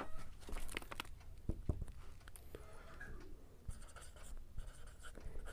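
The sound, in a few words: writing out a maths solution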